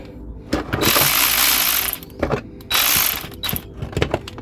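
An electric ratchet whirs in several loud bursts of clicking rotation, with short pauses between them, while a Euro6 LTI TX4 London black cab is serviced in a workshop.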